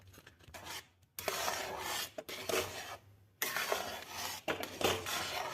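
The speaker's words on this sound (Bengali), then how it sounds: "এবার মিশিয়ে নেব।" A spoon stirs ghee into thick date-jaggery kheer payesh in a pot, giving close, rasping scrapes in bursts with short pauses between strokes.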